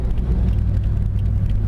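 A rear-wheel-drive manual car engine revs under a bridge, a deep, steady rumbling drone with low harmonics that holds loud and close throughout, echoing under the overhead structure.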